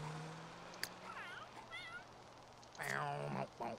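Cat meows from the video game The Sims 3, two short mewing calls early followed by a louder, drawn-out meow near the end, heard over faint background game sounds.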